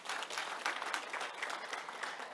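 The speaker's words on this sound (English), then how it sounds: "please, a round of applause?" An audience at a stakeholder event gives a round of applause, dense steady clapping from many hands throughout, moderately distant and without talking over it.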